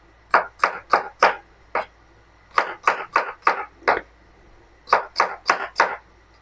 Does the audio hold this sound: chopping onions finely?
yes